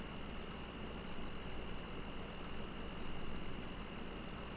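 Steady tractor engine idling and running in Farming Simulator 2013, a continuous low rumble with a constant hum, moderately loud and alone without talk.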